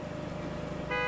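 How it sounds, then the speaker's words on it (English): Car horns honking in the video game Gas Station Simulator, a dense steady blare that grows louder and sharper near the end, with no talk over it. "everything's honking! Constantly!"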